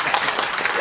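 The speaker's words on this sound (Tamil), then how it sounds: "நல்ல கைத்தட்டு" Brief burst of audience clapping at a Tamil film association conference, a dense patter of hands that stays steady and fairly loud for under a second.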